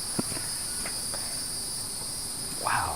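A cricket chirps in a steady, high, continuous trill, with a few faint soft knocks in the background and no talking.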